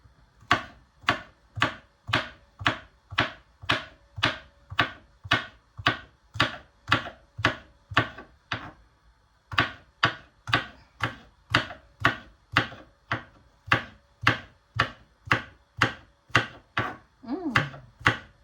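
A knife chopping spring onion on a cutting board, a long run of evenly spaced, crisp close thuds at a brisk steady rhythm with one short pause midway.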